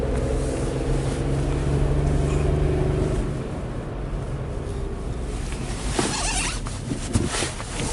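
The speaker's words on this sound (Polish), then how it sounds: "Fajnie buczy, jak mu się da gazu." Bus engine in Norway humming loudly under acceleration, a steady low drone that eases off partway and gives way to road and wind rumble.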